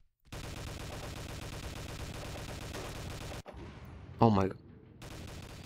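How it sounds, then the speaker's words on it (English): Rocket or grenade launcher fire in the online shooter game Army Force Online, a dense rattle of gunfire running for several seconds, then a short pause and a single loud blast with a person reacting briefly. "Apparently he's using a rocket launcher or grenade launcher or whatever it is."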